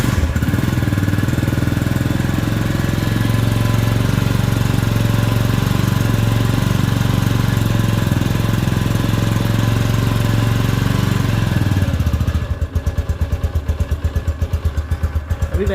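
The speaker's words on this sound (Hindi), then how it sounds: "हम इस बाइक को ऑन कर लेते हैं, किल स्विच कर लेते हैं इसका ऑन और लिए चलते हैं आपको इसके साउंड की जानिब।" A Green Superstar 200 motorcycle with a custom exhaust idles steadily and loudly with a throbbing, slightly knocking beat, then the tone shifts to a choppier, pulsing putter near the end.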